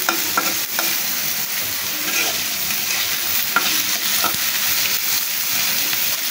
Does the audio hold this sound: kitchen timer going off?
no